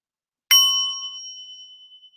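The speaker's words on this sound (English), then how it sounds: "the voice of the bell calls us back" A single meditation bell is struck once during a guided mindfulness meditation, giving a bright clear strike that rings out alone and decays slowly over about two seconds.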